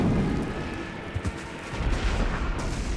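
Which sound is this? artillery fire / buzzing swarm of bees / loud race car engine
artillery fire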